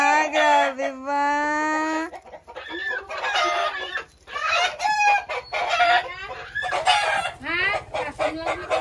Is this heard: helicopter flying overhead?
no